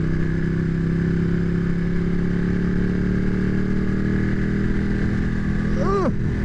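A Ducati 1199 Superleggera motorcycle engine idles and revs steadily at close range, a loud continuous drone with a brief rising rev near the end.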